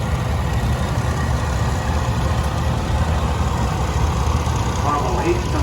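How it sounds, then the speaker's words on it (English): A 1958 John Deere Model 420 tractor engine chugs at a steady low idle as it rolls past in an antique power parade, a close continuous rumble with a public address voice talking over it. "Philip Pittman coming around the corner in his 1958 John Deere Model 420"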